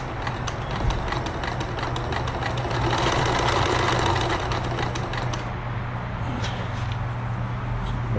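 Necchi 525FA sewing machine stitching a zigzag pattern, a steady rapid mechanical chatter with a low motor hum running continuously throughout.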